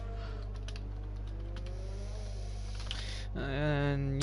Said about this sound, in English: sorry, I was typing that